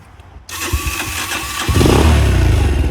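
A Daelim Roadwin 125 motorcycle starts up after a short quiet moment, then settles into a steady idle that grows louder and fuller near the end, its aftermarket baffled exhaust humming close by.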